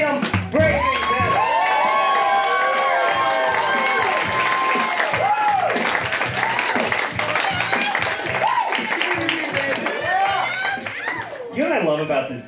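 Audience applause and cheering at a stand-up comedy show at The HaHa Cafe, steady loud clapping and whoops filling the room for the full stretch as a comedian takes the stage, with voices mixed in.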